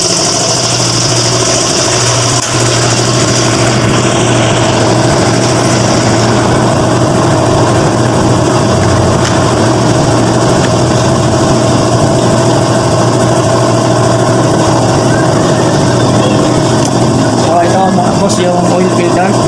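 An MG ZS car engine idles steadily and loudly throughout during a maintenance check-up, a constant low hum with slight mechanical vibration.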